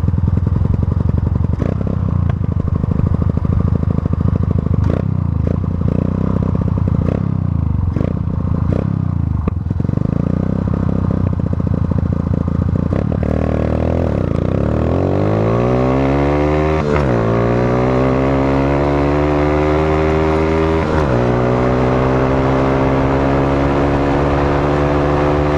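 A Yamaha FZ16 190cc motorcycle accelerates hard along a 200 m run, its engine note climbing steadily through several gear changes, loud and close with wind and mechanical clatter throughout.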